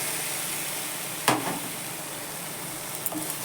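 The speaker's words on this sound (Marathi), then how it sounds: "चांगलं परतून घेते मी" Coconut sweet mixture with a splash of milk cream is sautéed in a pan, a steady soft sizzling hiss throughout with a single scrape of the spoon and a few light clicks near the end.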